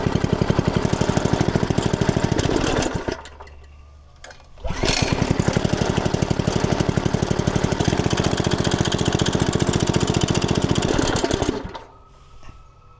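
A small engine roars steadily for several seconds after cranking, briefly drops as the throttle dips, then surges back up before cutting out and dying near the end.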